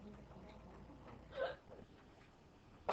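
A single sneeze in a classroom, a short sharp burst over quiet room noise, followed near the end by a second brief burst.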